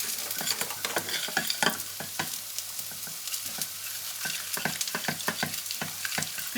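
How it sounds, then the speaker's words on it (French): Milk is stirred into a butter and flour roux in a pan on the stove, a busy run of close scraping and clicking stirring strokes over a soft sizzle, rhythmic and continuous with no voices. "Une fois que le beurre et la farine est devenu comme une pâte, on rajoute le lait."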